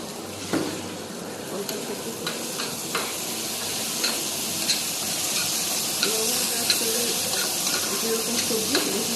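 A spice mixture with added water is stirred and sizzles in a hot pan for a poppyseed curry, a steady bubbling hiss with scraping spoon strokes up close, with no one speaking.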